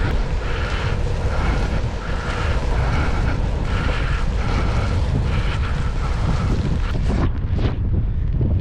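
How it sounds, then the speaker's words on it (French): Strong, steady wind roars across the microphone during a bikepacking trip in France just after rain, a continuous loud buffeting rumble with gusty surges and no voices. "Il y a beaucoup de vent aujourd'hui"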